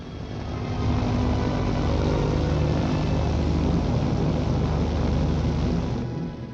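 Engine roar of a Beagle 206 twin-engine private business plane, a steady loud broadband drone held throughout, fading slightly at the end.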